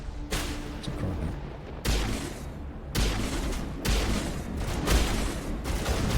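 Enemy gunfire in Mass Effect during a firefight with a Krogan, heavy bursts of shots arriving in several loud waves over a dense, continuous combat rumble.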